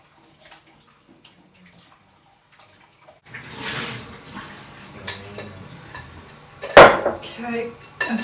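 Hot water poured in a kitchen sink to scald cheesecloth fastened to a jelly ring, with quiet clinks at first, then a running gush of water and a sharp metallic clatter partway through.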